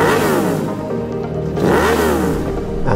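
Austin Racing motorcycle exhaust revving hard and close, the engine note climbing and falling in two loud swells with a rough, throaty edge and steady rumble underneath.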